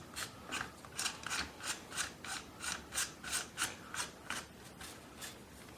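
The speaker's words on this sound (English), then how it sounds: "we should be able to spin your delta ring and barrel sleeve on" A delta ring and barrel sleeve spun onto a Tiberius T15 rifle upper receiver, giving a close series of regular metallic rasping, ratcheting turns, about a dozen evenly spaced strokes, with no talk.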